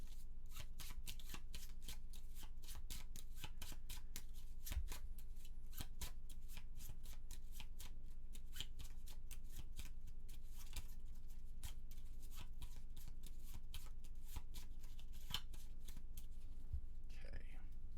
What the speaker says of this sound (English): Radio A gets their one, and then we shuffle.